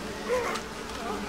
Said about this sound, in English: Snake is completely covered in giant ass hornets, killing him.